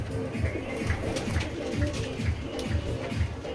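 Desi pigeons coo inside a loft in Howrah Liluah, with low, throaty coos repeating in a steady rhythm about twice a second, close and fairly loud over faint background noise.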